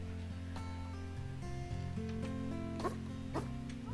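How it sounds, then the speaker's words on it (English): Wolves in WolfQuest howl in layered, stepping tones that overlap in a chorus, steady and fairly close, with a couple of short sharp noises partway through. "Oh, great, there's... bad howls."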